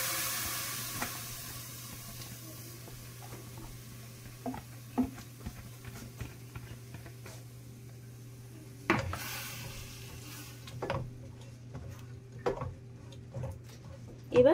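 Spices and mixed vegetables stirred and dry-fried in a pan without oil, a soft low sizzle under scattered spatula scrapes and taps, quiet and close.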